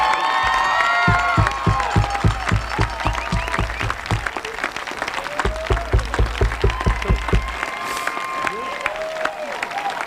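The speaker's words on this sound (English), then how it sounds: "Families and friends, please join me in giving a round of applause to the class of 2026." A commencement audience applauds and cheers the graduating class, with loud sustained clapping, whoops and crowd voices throughout and a rhythmic group clap partway through.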